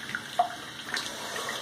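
Water running from a bathroom tap during handwashing after a head shave, a faint, brief splashing stream with a couple of small splashes.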